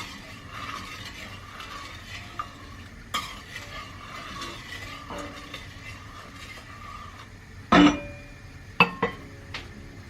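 Sugar and water being stirred together in a pot to make baklava syrup: a steady soft scraping swirl, with a few sharp clinks of the utensil against the pot near the end.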